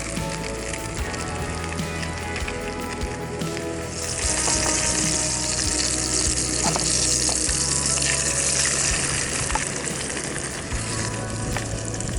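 Spam, egg and mushrooms fry in a pan at an outdoor wild camp, giving a steady, loud, close sizzle that swells and stays constant throughout with no talking.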